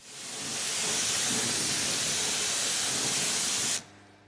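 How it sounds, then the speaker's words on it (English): A close, loud, steady hiss of a water spray rinsing cleaner off a V6 engine bay that runs for several seconds and then cuts off abruptly. "each freshly cleaned area was independently rinsed off to prevent the product from drying and potentially staining"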